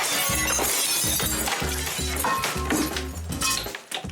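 Thin, brittle old window glass shatters as it is pushed out of its frame, with a burst of loud, close crashing followed by repeated clinks and tinkling shards over several seconds.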